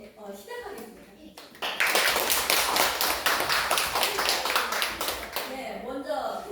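Audience at an elderly and youth jobs policy seminar breaks into clapping after brief speech, a sudden burst of many hands that stays loud and steady for several seconds before tapering.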